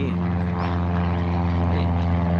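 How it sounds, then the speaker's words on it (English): A propeller plane drones steadily at Moorabbin Airport, a loud low hum with a constant engine tone lasting throughout. A voice can be heard faintly beneath it. "Oh, look, there's a plane here."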